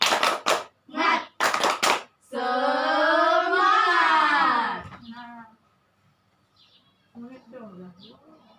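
First-grade pupils clap a quick rhythmic spirit clap in a classroom, several sharp hand-claps in a pattern, then a long loud group shout by the children that fades into soft murmurs.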